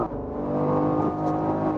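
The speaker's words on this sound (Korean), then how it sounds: "엔진의 소리는 이런 정도의 느낌입니다" BMW X3M Competition SUV engine pulling steadily under acceleration on a busy road, a continuous low, dense drone that stays loud and even for under two seconds with no speech over it.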